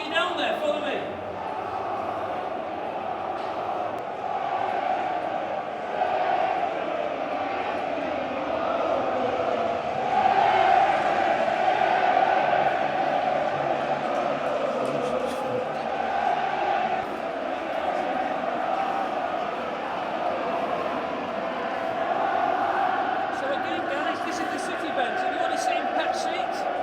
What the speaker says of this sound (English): Let's get the crowd noise going there